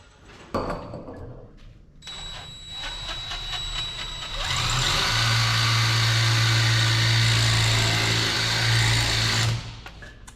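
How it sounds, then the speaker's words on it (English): A small cobalt drill bit whines into metal on a crank-handle dumper conversion, the motor spinning up after a few clicks and then running steadily and loudly for about five seconds before stopping. "I've got a small cobalt drill"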